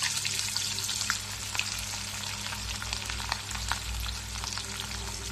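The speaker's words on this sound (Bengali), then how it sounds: "প্রথমে আমি এই তেলে পেঁয়াজগুলোকে দিয়ে দেব। তেলটা কিন্তু এখন লো রাখবেন।" Onions frying in oil on low heat for chilli paneer make an even, close crackling sizzle, with faint stirring scrapes and a low steady hum beneath, and no one talking.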